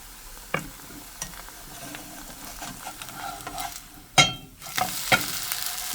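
A Korean mushroom pancake fries in a little oil with a steady close sizzle. Occasional sharper pops and spatula scrapes sound against the pan.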